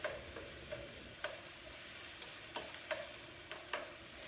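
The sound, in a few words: vegetables sauteing in a pan over high heat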